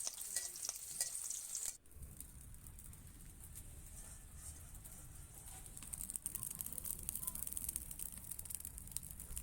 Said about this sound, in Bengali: তেল গরম হলে পেঁয়াজ কুচি দিয়েছি।